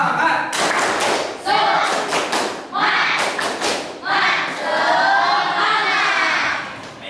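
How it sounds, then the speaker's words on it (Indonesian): A classroom of students performs a rhythmic spirit clap in a lesson on Friday prayer, loud, close, patterned bursts of claps and thumps with shouted voices, pausing briefly between rounds. "Baik, tepuk semangat."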